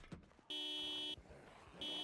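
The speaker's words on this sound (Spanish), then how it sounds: "No te puedo creer que sonó la alarma." A car alarm blares in Project Zomboid, a harsh, steady electronic tone pulsing on and off in long blasts, loud and close over faint background sounds.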